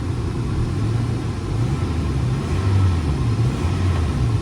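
A Ford F150 pickup truck engine gives a steady, close, low rumble with a slight swell as it is given some gas, no voices over it.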